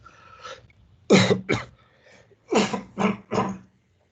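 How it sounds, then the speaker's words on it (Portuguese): A close series of harsh coughs in two bursts, about five in all, separated by a short pause, with no speech. "Desculpe a tosse aí, esse ar seco"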